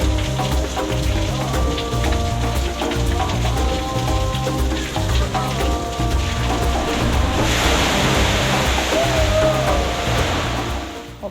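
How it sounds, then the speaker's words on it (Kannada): Water from a tipping fountain bucket at the Lotus Desaru water park in Malaysia pours down in a loud, steady rush that swells midway, with music playing underneath. "ಫುಲ್ ತುಂಬಿದ ಮೇಲೆ ಬಕೆಟಲ್ಲಿ ನೀರು ಸುರಿದಂಗೆ ಅದು ಉಲ್ಟಾ ಆಗುತ್ತೆ. ಆವಾಗ ನಮ್ಮ ತಲೆ ಮೇಲೆ ಜೋರಾಗಿ ನೀರು ಬರುತ್ತೆ."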